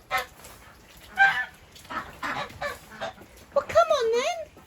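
Ducks honk and quack loudly in the rain, a few bursts of complaint followed by a longer, wavering call near the end, with a person speaking softly in between.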